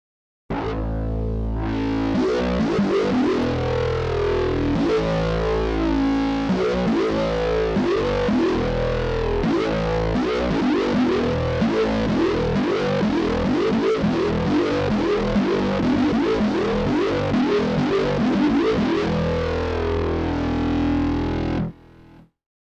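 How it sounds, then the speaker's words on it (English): A thick, buzzing synth bass drone from Arturia Pigments with gritty distortion and a muffled low-pass filtered tone, sustained loudly for about twenty seconds before cutting off. "we want to go back to the distortion and add the filters"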